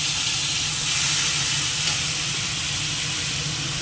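Chopped tomato hitting fried onions in a hot pan gives a steady, loud, even sizzle that hisses on without a break, with no talking.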